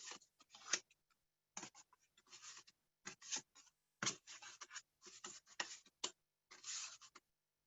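A pen scratches over affirmation cards as someone draws, a series of short, crisp scraping strokes in bursts separated by brief pauses, close and quiet with no talk.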